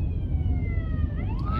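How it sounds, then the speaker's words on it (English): An emergency siren wails as the vehicle passes nearby over steady street traffic noise, the tone sliding in pitch as it goes by. "Oh, we got an ambulance."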